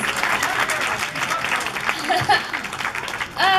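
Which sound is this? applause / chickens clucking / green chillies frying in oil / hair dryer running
applause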